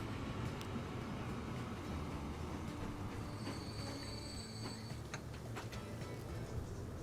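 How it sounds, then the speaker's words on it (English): Freight and passenger trains run in the Transport Fever 2 video game, giving a steady loud rolling rumble with high wheel squeals rising over it. No talking is heard. "And there's another freight train and a passenger train."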